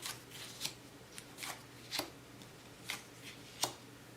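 Board game cards drawn from a deck and flipped over one by one, producing sharp, quiet snapping and sliding flicks at irregular intervals over a faint background hum.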